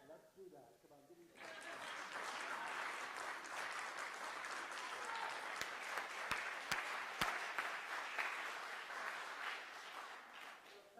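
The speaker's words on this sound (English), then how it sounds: "If you applaud me now, before I do this, for what I've just done." An audience at a theatre scholar's day of events breaks into applause after a voice stops, a sustained, full-room wash of clapping that rises quickly, stays loud for about nine seconds with a few sharp claps, then begins to fade.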